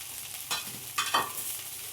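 Poha tossed with fried peanuts gets stirred in a pan, giving two or three quick spatula scrapes over a faint, soft sizzle, close and quiet, with no voices.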